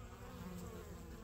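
Bees buzz around a hive that other bees are robbing, a steady close hum of insect wings that holds at even loudness throughout.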